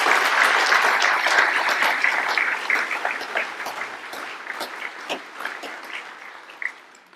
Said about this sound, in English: Please join me again in a round of applause for all of them